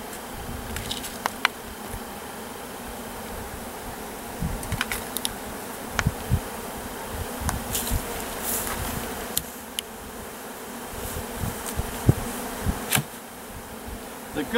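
Honeybees buzzing steadily around a busy hive, a dense continuous hum close by, with occasional light clicks and taps.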